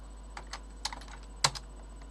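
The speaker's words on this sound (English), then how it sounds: "So I need to type manually." Sparse keystrokes tap on a computer keyboard, a handful of light, close clicks spaced unevenly over a quiet background with a steady low hum.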